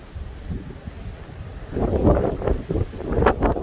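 Gusty wind buffets an outdoor microphone beside a modified 2011 Mini Cooper S, a low steady rumble that swells louder in the second half with rough bursts, no talking.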